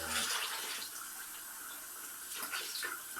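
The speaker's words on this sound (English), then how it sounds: "just gonna get the hottest water off the tap" Hot water gushes steadily from a household tap, a close, even hiss and splash that lasts the whole moment with slight surges near the end.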